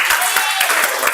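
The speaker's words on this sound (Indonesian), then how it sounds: "Baik, tepuk tangan." Children in a classroom clap in a short, dense burst of applause that lasts only about a second, fairly loud and close.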